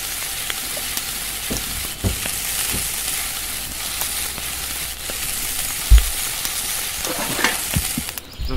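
Steady, loud sizzling of fish frying in a skillet in a survival video game, continuous crackling hiss with occasional sharp pops and a thump near the end.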